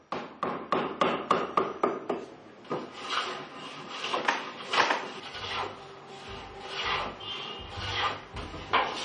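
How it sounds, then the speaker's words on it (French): A carpenter works wood by hand with planing, sawing, drilling and sanding, giving a fast run of sharp, rhythmic wooden strokes up close that give way to rougher rubbing and scraping passes. "il a, comme cet homme aujourd'hui, raboté, scié, percé et poli du bois"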